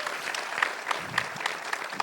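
Brief audience applause at a film Q&A, a short burst of scattered, fairly distant clapping lasting about two seconds.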